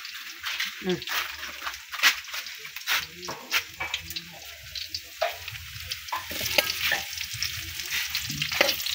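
Garlic and onion fry in hot oil in a pan, crackling and sizzling up close, with frequent sharp spatters and stirring clatter.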